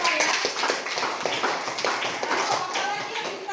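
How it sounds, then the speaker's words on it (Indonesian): Classroom of students clapping together during a lesson on separating mixtures, a dense run of overlapping hand claps with some voices mixed in, fairly near and steady throughout. "Oke, tepuk tangan dulu untuk data ya."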